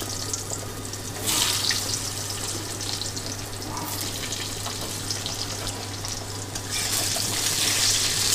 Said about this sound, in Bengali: এবার আমি উপর থেকে আলুগুলো দিয়ে দেব